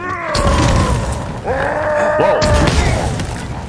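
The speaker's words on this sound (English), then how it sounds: "Took a rocket to the face?" A rocket explodes in the Halo Infinite campaign, a heavy boom and crash followed by rumbling debris and groaning mechanical tones, with a player exclaiming over it.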